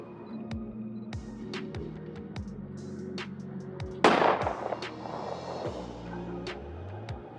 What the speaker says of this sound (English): That deserved a gunshot